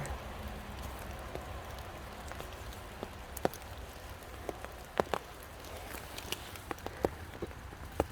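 Rain falling steadily during outdoor mushroom picking, a soft continuous patter with scattered sharper drops striking nearby surfaces, fairly faint and without speech.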